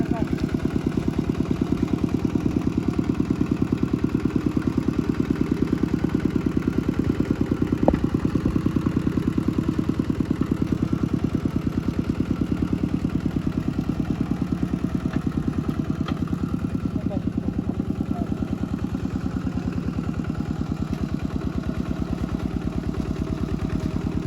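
A small single-cylinder walking tractor engine chugs steadily throughout with a rapid, even putter and some rattling clatter, close and continuous.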